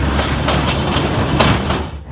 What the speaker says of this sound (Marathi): आणि अशी आता आपली ट्रेन हळूहळू वर चढायला लागलेली आहे.